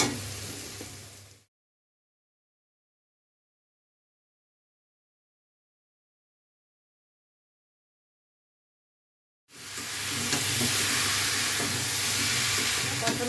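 Red potatoes and pumpkin frying in a hot pan, a steady sizzling hiss heard briefly at the start, then a long silent gap, then the sizzle returns strongly at the end.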